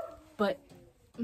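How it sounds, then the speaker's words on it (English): A dog barks once, a short muffled bark somewhat distant, with a fainter yip near the end, while a person speaks quietly in the foreground. "my dog is barking again"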